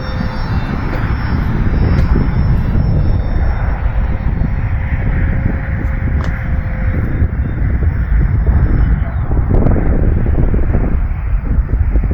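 Eflite P-47 Thunderbolt 1.2 m electric RC airplane on a 4S battery taking off into an east wind, with a steady motor whine under heavy wind buffeting on the microphone.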